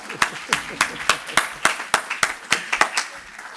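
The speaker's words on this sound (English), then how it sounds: "So can we give Dunreath a round of applause, please?" Sparse applause from a small audience at a book event, roughly a dozen distinct, evenly spaced claps standing out clearly, close and crisp, with a few hands joining between the main beats.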